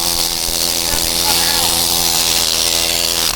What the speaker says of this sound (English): we're needle gunning and cleaning these track pads right now